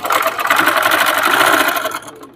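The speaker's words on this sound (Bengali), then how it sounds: "এটাকে আমি 2 সাইডে সেলাই দিয়ে নিব" A sewing machine runs steadily, stitching both sides of a folded cloth strap 20 inches long and 4 inches wide for a baby frock, a loud continuous whir that tapers off near the end.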